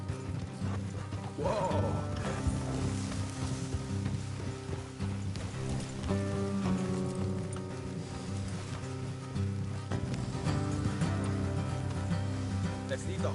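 Steady clip-clopping horse hooves in Red Dead Redemption with game music and ambience underneath, a brief whinny early on and a single spoken exclamation.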